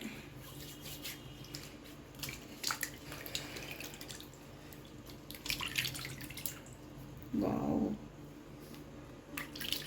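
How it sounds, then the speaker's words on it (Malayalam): Hands are rinsed and washed with water, giving faint, close dripping and splashing with soft squishy rubbing. A short burst of running water comes near the end. "നമുക്ക് കയ്യിൽ വെള്ളം നനച്ച് കൊടുത്ത് നമുക്കൊന്ന് കഴുകിയെടുക്കാം"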